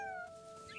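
A cat meowing in the game What Remains of Edith Finch, one short drawn-out meow that fades quickly, faint and alone.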